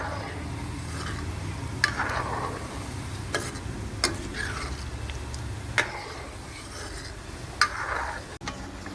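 Cauliflower and carrot Manchurian fries on a low flame with a soft continuous sizzle, while a spoon scrapes and stirs through the pan in a few sharp, separate clicks.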